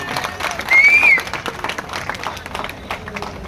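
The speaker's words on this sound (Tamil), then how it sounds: "நீங்க ஒரு கைத்தட்டல் கூட கொடுக்க மாட்டீங்களா?" Brief burst of audience clapping at a Tamil agriculture-support event with actress Devayani, rising for about half a second and fading quickly, mixed with crowd noise and voices.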